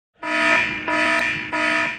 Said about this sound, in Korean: 침입 경보가 울리고